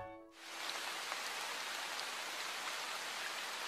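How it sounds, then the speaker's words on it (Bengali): Heavy rain pours steadily in an animated children's story, a dense, even hiss of downpour that fills the scene after a brief tonal note at the start, with no voices. "চল বন্ধুরা, বৃষ্টি তো হতেই থাকবে"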